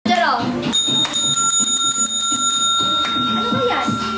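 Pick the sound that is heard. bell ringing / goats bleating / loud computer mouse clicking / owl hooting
bell ringing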